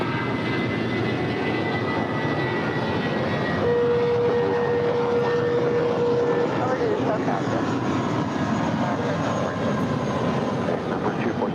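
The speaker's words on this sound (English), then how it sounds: "Our next departure is JetBlue Airways, flight 2704, heading to San Francisco. It's an A320." A JetBlue Airbus A320 takes off from LAX, heard as a steady, loud, broad jet-engine roar that holds throughout, with radio voices faintly underneath.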